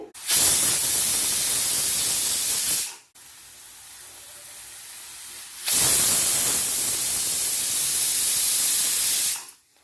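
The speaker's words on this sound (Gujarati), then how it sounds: "તો આપણી બે વિસલ થઈ ગઈ છે" A pressure cooker on a gas stove, cooking a drumstick and potato curry, releases two long loud bursts of hissing steam, each lasting about three to four seconds, with a quieter steady hiss between them.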